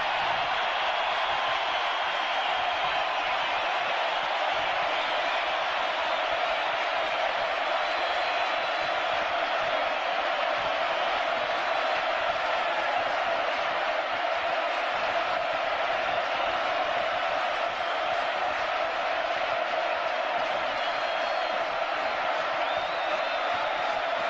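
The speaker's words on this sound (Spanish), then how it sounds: "Daniel Greenbank puso un tuit que nos permite tomar este aplauso inolvidable de la Argentina a Charlie Watts y los Rolling Stones" A huge Argentine crowd applauds and cheers for Charlie Watts and the Rolling Stones, a continuous roaring wash of clapping and voices that holds steady and loud for the whole stretch without letting up.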